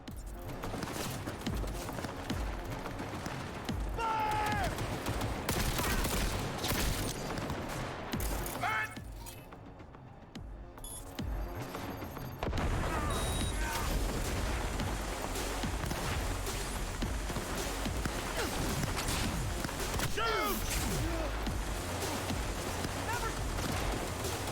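Gunfire in the Cyberpunk 2077 video game: dense, sustained volleys of shots and impacts, loud and busy for most of the stretch with a brief lull midway, with voices talking over the action.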